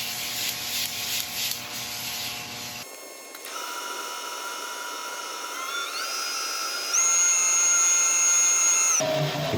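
Yorkshire Grit abrasive paste rubbed onto an epoxy resin bowl spinning on a woodturning lathe, a steady close whirring hum with rising tonal whine as the speed changes, ending in an abrupt shift of sound near the end.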